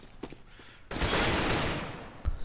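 Gunfire in Counter-Strike on the map Train, a sudden loud burst of shots that holds as a sustained roar for about a second, with a few faint clicks before it and another short crack at the end.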